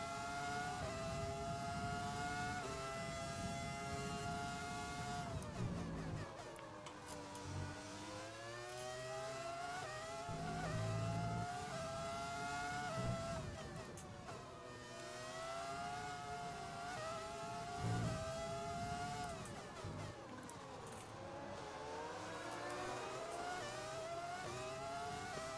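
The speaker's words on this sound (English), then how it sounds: "and I get passed by Kimi, can we just appreciate how beautiful these cars sound?" Formula 1 cars in the F1 2020 racing game running a modded 2003-season career, their high-revving engines screaming continuously with rising and falling pitch through gear changes, several cars close together and loud throughout.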